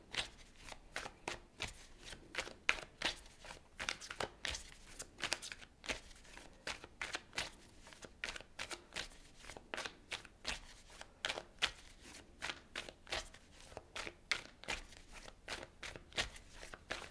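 A deck of tarot cards is shuffled close by, giving repeated crisp riffling bursts and soft slaps in a quick, fairly regular rhythm, quiet overall with no speech.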